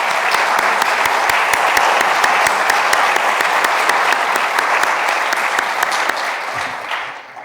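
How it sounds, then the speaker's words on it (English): Loud, sustained applause from a large audience at a bicentennial opening ceremony, dense clapping throughout that begins to taper off near the end. "can we give a big round of applause to all our sponsors?"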